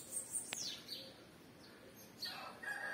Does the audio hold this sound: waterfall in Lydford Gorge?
no